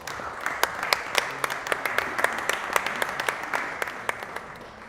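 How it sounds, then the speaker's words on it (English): Audience applause for the chairman at a Christmas dinner, a steady wash of clapping with sharp individual claps standing out, moderately loud and fairly close. "With your big round of applause, Chairman WCOP Sayyid Qamar Raza."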